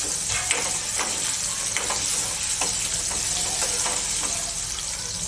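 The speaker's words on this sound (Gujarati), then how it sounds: "હવે મેં કાચી કેરીના કટકા કર્યા છે તો આપણે કાચી કેરીના કટકા નાખીશું" Raw mango pieces hit a hot frying pan with bitter gourd curry, giving a steady broadband sizzle with faint scattered ticks and clatters of pieces landing, close and continuous with no voices.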